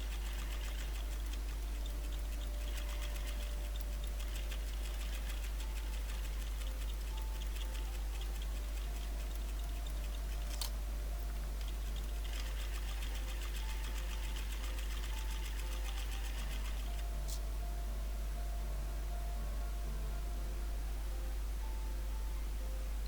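Sewing machine stitching close along the edges of a patchwork quilt throw, a steady rapid ticking run over a constant low hum, continuous and close, with no talking.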